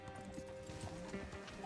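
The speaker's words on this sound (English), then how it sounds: "Whoa! Hello, horse?" A horse's hooves clip-clop in quick repeated beats close by, with a whinny mixed in, in a short burst over a noisy background.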